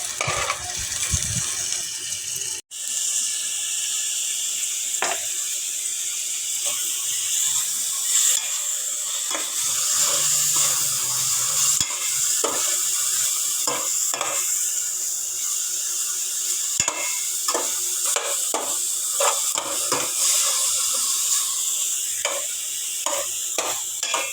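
Chicken pieces with cabbage and carrots sizzle loudly in a pan, close and continuous. A utensil stirs and scrapes them in frequent irregular strokes, with nobody talking.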